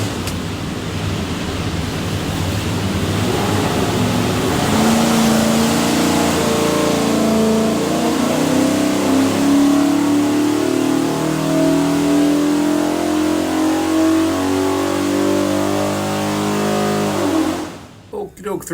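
A 427ci Windsor small-block V8 with a hydraulic roller cam runs on a dyno, revving loud and sustained as the pitch climbs steadily through a long pull, then cutting off abruptly near the end.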